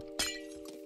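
A pane of glass breaking in Minecraft: a single sharp, bright shatter with a short tinkling tail, close and clear over a faint steady hum.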